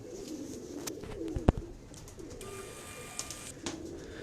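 Pigeons coo softly against a busy background, with a sharp knock and a faint tone partway through.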